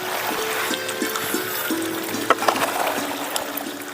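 Irrigation water runs through a farm channel in a steady, moderate rushing flow with scattered small splashes and gurgles, with no voices.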